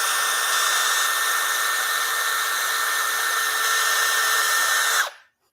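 A power drill bores a hole in wood for a DIY Christmas tree, a loud steady high-pitched whine held for about five seconds before it cuts off abruptly, with no voices.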